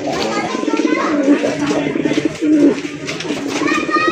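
Fancy racer pigeons on a Bangladeshi farm coo in soft, repeated low calls, with some bird chatter and children's voices in the background throughout.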